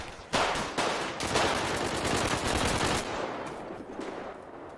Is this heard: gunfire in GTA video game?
yes